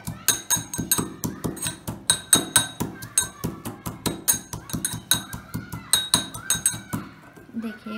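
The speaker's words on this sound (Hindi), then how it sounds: "हम गार्लिक को थोड़ा सा क्रश कर लेंगे।" Garlic pounded in a mortar with a pestle, steady rhythmic thuds and metallic clinks repeating close by for several seconds before slowing at the end.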